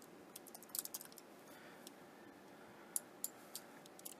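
Quiet bursts of computer keyboard typing as values are entered, light clicking keystrokes in short clusters with pauses, close but faint over a soft room hiss; no talking.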